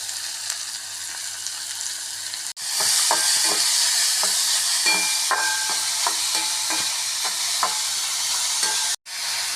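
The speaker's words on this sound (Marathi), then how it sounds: "कांद्याला छानपैकी गुलाबी रंग येईपर्यंत आपल्याला हा कांदा परतून घ्यायचा आहे" Crushed onion sautéing in hot oil for a mixed vegetable bhaji: a loud, steady sizzle surges as the onion drops in, punctuated by repeated spatula scrapes and clinks while it is stirred, with a brief cut near the end.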